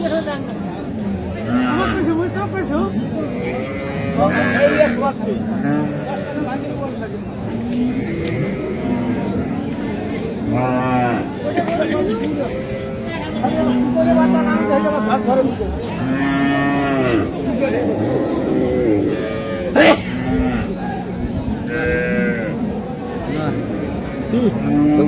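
Cattle mooing repeatedly, close and loud, at a livestock market amid a busy crowd with people talking and bargaining over cows and calves all around.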